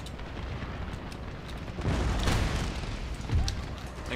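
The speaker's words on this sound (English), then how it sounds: "Oh, we got more artillery coming in." Artillery fire rumbles through a Darthmod Empire battle near Vienna: low booming blasts roll in over a constant noisy din, with a heavier swell mid-way and another thump near the end.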